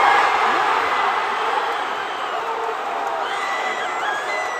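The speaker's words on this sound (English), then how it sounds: "You hear that crowd." A large crowd at San Diego Comic-Con cheers and roars loudly and continuously, a dense wall of shouting and whooping that slowly eases a little but stays strong throughout.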